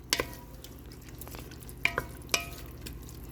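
Seafood seasoning is stirred into a simmering sausage soup, with soft bubbling and a few sharp scrapes and clinks of a spoon against the pot, quiet and without speech.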